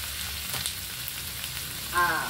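Soy sauce hits a hot frying pan of shrimp and sizzles steadily at moderate volume. A brief stirring or clinking sound comes near the end.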